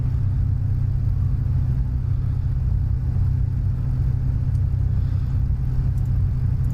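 Spitfire Mk IX piston engine idling on the ground in Microsoft Flight Simulator, a steady loud low rumble with even throbbing that holds constant throughout, no talk over it.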